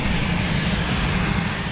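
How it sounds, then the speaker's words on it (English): Military aircraft flying overhead above Amarillo, Texas, a loud, steady, unbroken engine roar filling the whole moment, with no voices. "Military aircraft cruise over Amarillo like sharks looking for bait fish."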